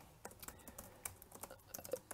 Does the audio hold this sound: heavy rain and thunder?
no